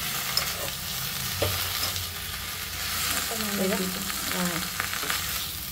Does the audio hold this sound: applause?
no